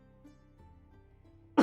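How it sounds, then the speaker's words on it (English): A single short cough bursts out loudly at the very end, close to the microphone, after near-silence with faint low hum. "I'm gonna cough."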